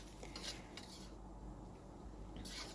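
Metal spatula scraping and clinking against an iron wok while fried noodles are stirred, giving a steady close rasping texture with a few sharper clanks near the start and end.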